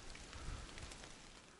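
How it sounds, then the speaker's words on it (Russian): Light rain falls steadily outdoors on an overcast day near a dugout shelter, a soft continuous patter with scattered drop hits, close and even throughout, with no voices. "Пасмурно, идет дождик."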